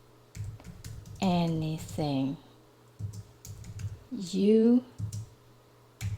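Soft clicking of a computer keyboard being typed on continues in quick bursts beneath a person talking.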